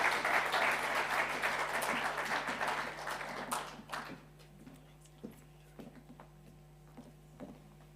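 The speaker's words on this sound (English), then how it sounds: "Let's please give a warm applause for His Excellency" Warm applause from a summit audience welcoming His Excellency, a broad dense wash of clapping for about four seconds that thins into scattered claps and fades out.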